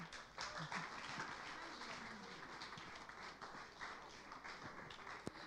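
Dense applause fills a conference hall at a startup pitch event, a steady wash of many hands clapping at moderate volume for several seconds with no speech over it.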